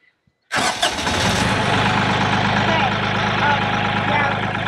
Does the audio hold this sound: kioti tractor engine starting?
yes